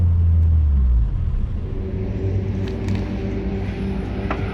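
A Toyota Corolla T Sport with an overheating problem rolls slowly into the pits at Donington Park, a steady low engine rumble close by that drops off after a heavier opening moment and then holds even.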